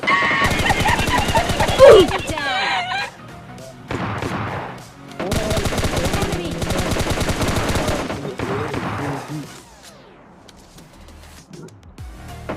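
Rapid bursts of automatic gunfire crackle loudly in several long volleys, with brief pauses between, from a PUBG firefight.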